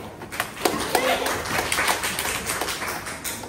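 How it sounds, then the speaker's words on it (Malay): A primary school science class claps hands together, a scattered run of sharp claps and taps heard close by with a voice talking over them. "Okey, tepuk tangan."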